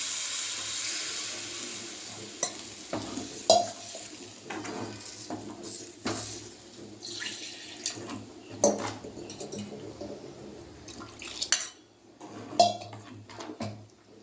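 Dissolved masala liquid is poured into an okra tamarind curry, with soft splashing, drips and intermittent clinks of a pot and utensils, fairly quiet and close.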